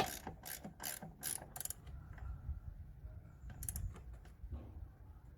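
Ratchet tightening the gearbox mount bracket bolts on a VW Polo, several quick close clicking ratchet strokes, a pause with faint handling noise, then another short burst of clicks.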